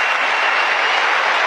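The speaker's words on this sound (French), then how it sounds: "faites-moi un tonnerre d'applaudissements pour Annabelle, s'il vous plaît" A French comedy-show audience applauds loudly and continuously, a dense wash of clapping at close range with no talk, holding steady for the whole short stretch.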